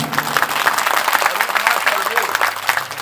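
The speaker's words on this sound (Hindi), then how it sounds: "इनके लिए जोरदार ताली।" Audience applause for the musicians at a Shrimad Bhagavat Katha religious gathering, a steady, dense clapping from the crowd lasting the full few seconds at even loudness.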